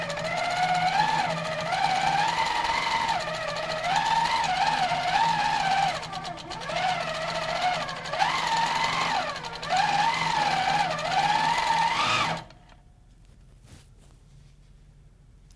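A Husqvarna Viking Platinum Q 165 quilting machine stitches steadily at close range, its motor whirring and rising and falling in pitch for about twelve seconds before stopping abruptly into near silence.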